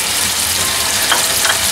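A pan of tomato and dried-tomato sauce for spaghetti with tuna, capers and anchovies sizzles and crackles loudly and continuously as a ladle of pasta water is added, with no talking.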